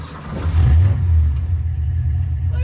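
Engine of a Ford Fox-body street car in a garage turning over, catching and revving hard, loud and close, then settling into a steady rumbling idle.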